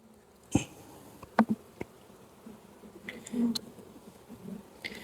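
Honey bees buzz around an open hive during an inspection, with scattered close passes of individual bees flying by the microphone, brief clicks and knocks from hive frames, and a faint ambient hum underneath.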